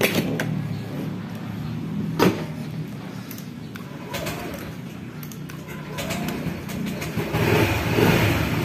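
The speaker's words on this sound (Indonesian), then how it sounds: "motor sudah bisa hidup ya teman-teman" A Honda PCX 160 scooter engine runs with a low rumble and slight revving close by, while pigeons coo in the background.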